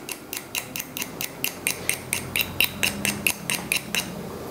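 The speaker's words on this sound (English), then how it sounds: "you just scrape away with your knife, scraping in the one direction" A knife scrapes along the thick end of a steel needle in one direction to magnetize it. The strokes are quick, evenly spaced and close, roughly fifteen of them in a steady rhythm of bright rasping ticks.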